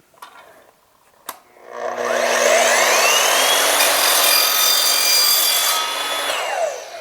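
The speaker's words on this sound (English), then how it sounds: "Let's try some plastic. I've got some 1-inch electrical conduit." An Evolution sliding miter saw spins up after a couple of sharp clicks and slices through 1-inch plastic electrical conduit, giving a loud, sustained whining cut that holds for about four seconds before spinning down.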